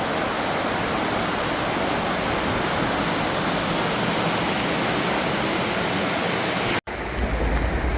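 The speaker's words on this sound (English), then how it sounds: "So I do think this is the part really that's the top of the waterfall here for Fitzroy" Fitzroy Falls waterfall pouring over its top edge, a steady, loud, broadband rush of water heard close from a walkway, unbroken for several seconds before a brief cut.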